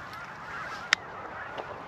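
A single speckled goose (white-fronted goose) honks once, a sharp, brief call midway through, out in foggy Canadian hunting marsh among decoys, over a steady low background of wind and distant wildfowl.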